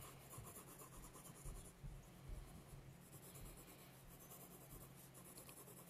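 A soft 6B pencil shades dark lines on paper in a drawing lesson, giving a close, quiet, continuous scratchy rubbing with a steady back-and-forth rhythm.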